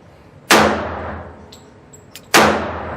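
Two sharp, loud gunshots from a CZ 97 B .45 Auto pistol fired with mixed ammunition, about two seconds apart, each with a ringing decay, and a faint metallic tick between them.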